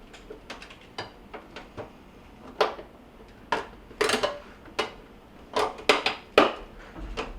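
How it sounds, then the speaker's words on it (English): Taking the light out of a Kenmore refrigerator produces a series of close, sharp plastic clicks and taps, irregularly spaced and louder toward the end, with no talking. "Now, let's take this light out first."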